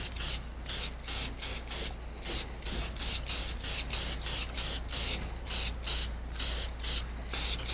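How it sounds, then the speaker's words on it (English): A spray can mists paint onto a motorcycle part in a garage, a string of short, even hissing bursts in a steady rhythm, close up and with no talk. "after that first little spraying, I'm gonna let it set for a few minutes"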